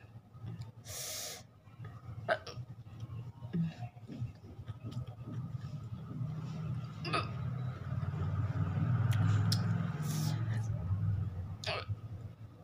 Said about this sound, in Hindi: बहुत जल्दी हिचकी आती मुझे।